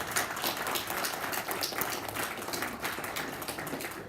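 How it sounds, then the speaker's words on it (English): Steady round of applause from an audience at a county Republican party meeting, dense broadband clapping sustained evenly throughout at moderate, slightly distant level. "let's give them a round of applause"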